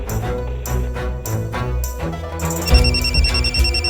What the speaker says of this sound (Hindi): अरे यार फिर बज रहा है फोन।